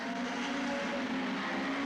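A steady engine drone of hot rod race cars at Northampton fills the clip, loud and continuous, with a constant high pitched whine and no talking.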